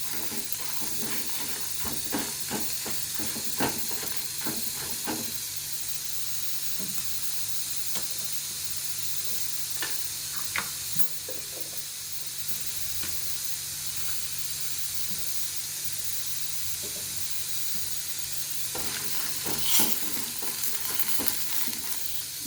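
Dry red chilies, cumin and coriander seeds fry in oil in a pan, giving a steady close sizzle and hiss with occasional stirring scrapes and pops throughout.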